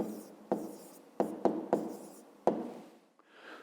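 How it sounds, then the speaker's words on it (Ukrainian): A pen writing an answer by hand on paper for a fifth-grade maths exercise: quiet scratchy strokes with several sharp taps as the pen lands, close and alone. "Так, пишемо тоді відповідь. Записуємо 6 способів."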